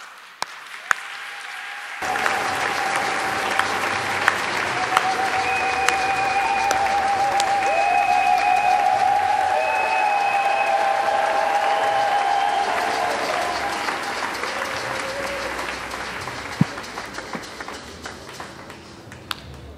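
A church congregation applauds during a Sunday service, sustained clapping swelling and fading over about fifteen seconds with cheers and voices mixed in beneath music.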